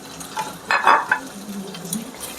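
A spoon stirs chicken stock into chicken bharta in a pan. A brief burst of scraping and wet sloshing sits over a low simmering sizzle, followed by softer stirring, with no one talking.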